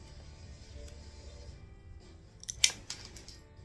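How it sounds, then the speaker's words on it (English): A glass cutter scores a stained glass petal for a mosaic, giving a brief, sharp scratching burst near the end after quiet handling noises. "So if we cut one in half, put your cutter on an angle, we're going to kind of get a little scoop cut out of there."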